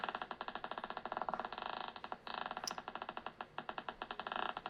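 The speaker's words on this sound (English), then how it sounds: "Each of these clicks is the fish emitting a small electric pulse." Rapid, regular electric pulses from a fish come through an amplifier as a steady train of sharp clicks, close and fairly loud, with slight shifts in rhythm and no talking.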